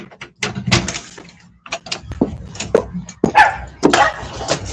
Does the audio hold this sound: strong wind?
no